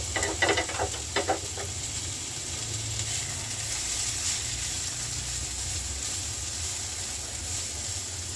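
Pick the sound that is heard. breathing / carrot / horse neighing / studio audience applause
carrot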